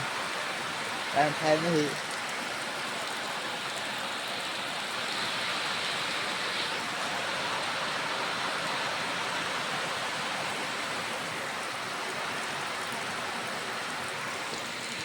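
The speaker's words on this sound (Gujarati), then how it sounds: "વરસાદ બહુ ચાલુ વધારે છે" Heavy rain pours steadily in a dense, unbroken hiss that continues to the end, with a brief spoken remark near the start.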